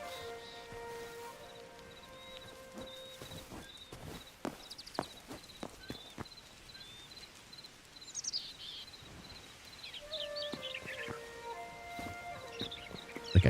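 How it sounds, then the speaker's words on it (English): Bird chirps and calls drift through the nature ambience of the Hytale video game, mostly faint, repeated tweets that grow busier and more layered toward the end alongside light clicking steps. "Like, I hear birds."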